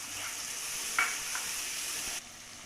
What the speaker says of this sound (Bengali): আর একটু জল দেবো, দিয়ে ভালো করে ভাজবো মশলাটা।